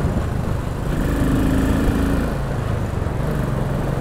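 A Royal Enfield Continental GT motorcycle on a Sunday ride gives a steady low engine thrum with wind rush around it, holding an even level throughout, with a brief higher whine partway through.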